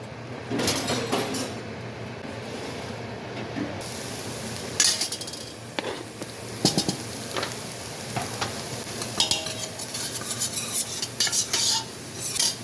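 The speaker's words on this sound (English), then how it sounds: "Now I am going to add some, I'm going to add the garlic" Garlic is stirred into cooked-down onions in a pan, with steady sizzling frying and repeated scraping and clinking of a utensil against the pan, close and moderately loud.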